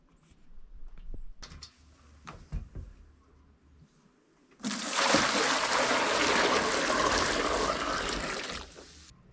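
Water pouring steadily into a buck boiler being filled for skull cleaning with borax, a loud, broad rushing stream that starts abruptly after quiet handling noises and runs for several seconds.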